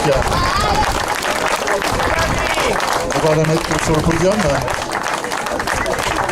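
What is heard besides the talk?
audience applauding a podium finisher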